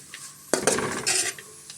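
A lid is set down on a frying pan of beetroot palya, giving a brief metallic clatter and rattle that settles quickly, with quiet kitchen background before and after.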